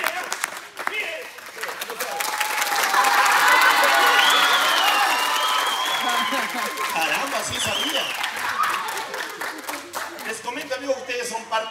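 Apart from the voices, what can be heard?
circus audience applauding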